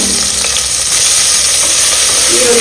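Onion with crushed garlic fries in oil inside a pressure cooker, a close, continuous sizzling hiss with faint stirring, no voices.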